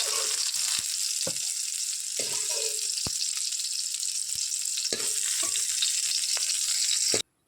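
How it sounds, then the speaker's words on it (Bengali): Soybean chunks sizzle steadily in a hot pan, a continuous bright crackle broken by a few sharp clicks and stirring knocks, with no voices, ending abruptly. "সোয়াবিনটা ভাজা হয়ে গেছে"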